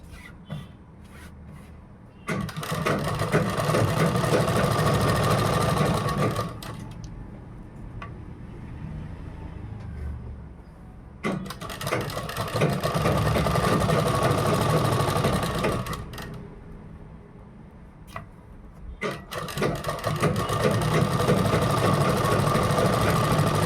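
A sewing machine stitches a kurta in three long, steady bursts of fast mechanical whirring, separated by brief quieter pauses, close and continuous with no talking.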